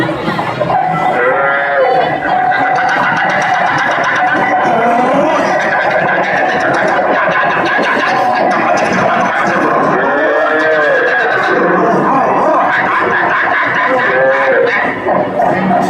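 Loud, drawn-out mooing from cattle pulling a bullock cart, over a constant rumbling background, with long low calls rising and falling several times.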